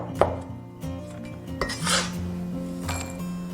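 A knife chops scallions on a board for garnish: a few sharp, separate strikes spread over a few seconds, with steady background music underneath.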